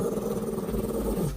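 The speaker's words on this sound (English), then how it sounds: "Bandit keeps staring up and growling at something it perceives as a threat" A dog growls in a low, steady, continuous rumble throughout, close and fairly loud, in an otherwise quiet indoor room, with no talking.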